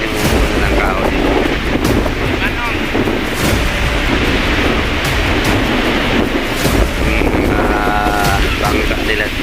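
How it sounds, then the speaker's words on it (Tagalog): Strong seaside wind buffets the microphone in loud gusts over steady surf and waves on a beach where fishing boats are kept, with someone talking through much of it. "Lakas talaga ang hangin dito mga idol, no?"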